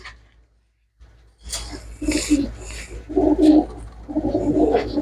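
Pigeons offered for sale coo in repeated low, throaty bursts close by, starting after a short quiet moment and continuing in uneven pulses with faint background noise.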